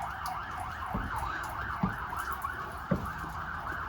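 A wailing siren rises and falls continuously in the distance, fairly faint, with a few soft thumps close by.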